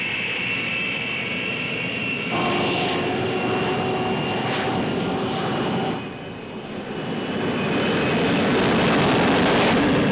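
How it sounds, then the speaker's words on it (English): A propeller search aircraft drones loudly overhead on a low-level run, its steady engine roar dipping briefly before swelling back as it passes close. "the Civil Air Patrol, and the Coast Guard Air Auxiliary Flotilla began low-level runs over the area"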